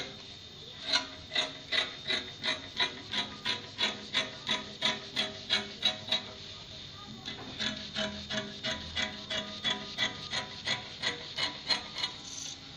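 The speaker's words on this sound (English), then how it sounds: "I'm going to be cutting it out now." Scissors cut jumpsuit fabric in a steady run of about two dozen crisp snips. The snips come at an even rhythm with a short pause partway through, close and moderately quiet.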